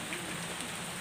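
Steady rain falling outdoors during a rainy day in the rice fields, a dense even hiss of drops without pause, moderately loud and alone.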